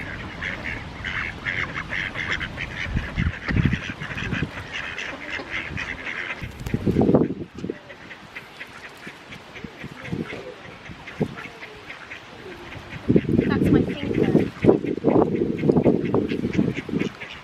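A goose being hand fed honks and quacks repeatedly, close by and fairly loud, with louder bursts near the middle and end while a person speaks briefly.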